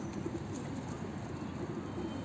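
Soft, low pigeon cooing, murmuring steadily throughout against a faint outdoor background.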